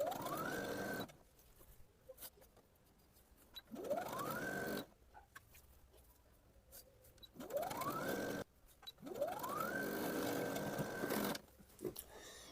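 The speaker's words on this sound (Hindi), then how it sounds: "आप डायरेक्ट मशीन से भी इस तरीके से कर सकते हैं।" A sewing machine stitches suit lining in four distinct runs, each motor whirring up in pitch and rattling for about a second, with quiet pauses and small handling clicks between.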